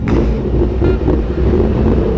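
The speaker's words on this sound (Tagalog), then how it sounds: "Traffic." Steady, loud road traffic noise with car engines and rumble, heard continuously from a rider's position in hot, congested traffic.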